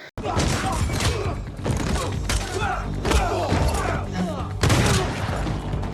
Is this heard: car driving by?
no